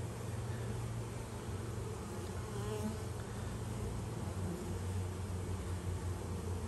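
Honeybees buzz steadily inside a hive during a late-summer inspection as a new bee chews through her wax cell capping, a continuous close insect drone with no talk.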